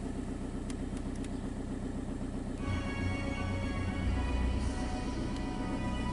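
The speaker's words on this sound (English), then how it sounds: "Start the engine." A Skoda car engine starts partway through and settles into a steady idle close by, with a fainter hum underneath before it catches.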